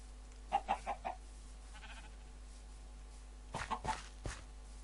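A chicken in the Minecraft video game, clucking in two short bursts of quick, close, fairly faint calls over a steady low background hum, with no talk.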